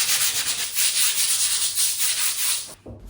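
Hand sanding of a faired carbon-fibre skin repair over EPS foam: rapid rhythmic back-and-forth rasping strokes, close and steady, stopping abruptly near the end.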